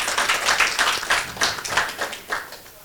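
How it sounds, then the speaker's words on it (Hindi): An audience at an Indian bravery awards ceremony claps in a scattered, moderate burst of applause, uneven rhythmic hand claps rising and fading over a few seconds, with no one speaking. "ताली में बहुत कंजूसी है"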